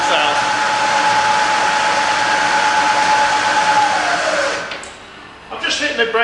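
A Bridgeport milling machine with a 42-inch table hums steadily as its spindle runs at 1000 rpm, a close, even whine that drops away near the end before a short burst of noise.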